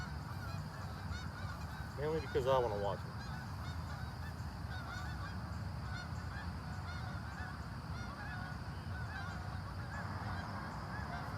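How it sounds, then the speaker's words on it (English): Geese honk in a short burst of several calls as they fly over outdoors, fairly faint against steady background noise, with a person speaking briefly. "I'm gonna let her sit here and watch these geese fly over."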